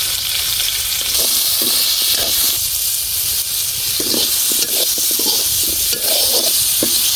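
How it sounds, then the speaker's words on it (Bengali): Potatoes and vegetables sizzle loudly in a pan for a Bengali curry with kochur loti and hilsa fish, a constant frying hiss broken by intermittent stirring scrapes, with no talk. "সব সবজি দিয়ে নিচ্ছে, ভালো করে কষিয়ে নিব"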